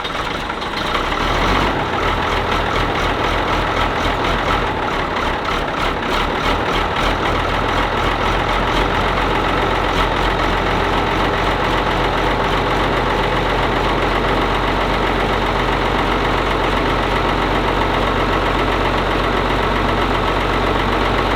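A Ford TW25 tractor's diesel engine cranks, fires and settles into a loud, steady, knocking idle heard up close, with no talking.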